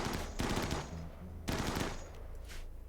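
Rapid automatic gunfire in RimWorld is aimed at a Frumbo creature, sounding as two loud, sustained bursts of rattling shots separated by a brief pause, with a trailing echo between them.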